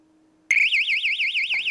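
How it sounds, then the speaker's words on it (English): A cheap piezo siren alarm driven at 12 volts bursts on after a faint hum, giving a loud, piercing warbling tone that rises and falls in rapid regular cycles and holds steady to the end. "the piezo siren tunes on when the alarm clock buzzer goes off"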